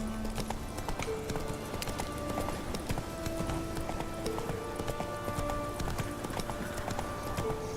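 A horse trotting in The Witcher 3: Wild Hunt, with rapid, steady clip-clop hoofbeats running throughout over a tonal musical background.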